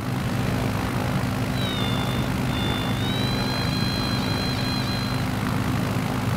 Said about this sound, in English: At least this plane is so easy to fly that it literally takes off by itself.